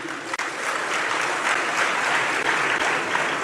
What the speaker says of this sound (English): Please applaud Mr. Dan Akwe.